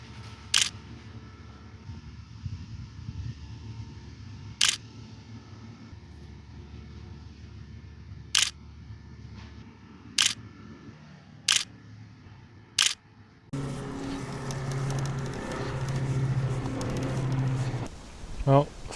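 A camera shutter snaps crisply six times at uneven intervals while photos of a bike are taken, each click sharp and close over a steady low background rumble that grows louder toward the end.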